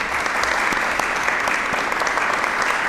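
A live audience at a podcast recording bursts into sustained applause, dense and loud clapping from many hands filling the room without pause, with light crowd murmur beneath.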